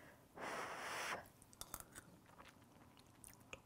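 Someone takes a taste of rice congee with pork: a soft slurp or breath at first, then quiet, close, wet chewing clicks spread irregularly over the rest, very faint overall.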